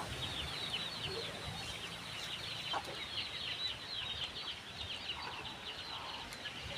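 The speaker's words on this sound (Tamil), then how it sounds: "எங்கள் வீட்டு கோழி பண்ணை" Chickens on a home chicken farm cluck and chatter softly at a distance over a quiet, steady background murmur, with no talk.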